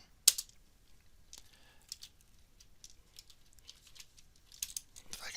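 Light, scattered keystrokes on a computer keyboard while entering a value into a spreadsheet, a few isolated taps then a quicker cluster near the end, quiet and close with no talking.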